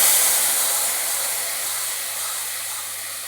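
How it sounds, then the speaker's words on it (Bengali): Spice paste hits a hot wok of reddish-fried potatoes and sets off a loud, close, steady sizzling hiss that slowly eases off. "এবার আমি মশলাটাকে পুরো কড়াইতে দিয়ে দেবো দেখো মশলাটাকে আমি ঢেলে দিচ্ছি"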